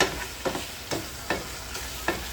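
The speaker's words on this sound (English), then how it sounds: "add the other stuff in to cook the onions, garlic, the taco seasoning" Onions, garlic and taco seasoning sizzle softly in a pan while a utensil stirs them, giving five sharp scraping taps at a steady pace over the constant low frying hiss.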